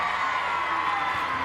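Arena crowd at a women's gymnastics championship cheering and whooping steadily through a routine, a dense wash of voices with no break.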